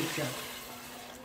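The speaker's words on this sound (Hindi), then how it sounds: "अब मैं इसमें पानी शामिल कर दूँगी" Water is poured into a pot of whole and ground spices while making shami kabab, a short, soft splashing pour that fades quickly.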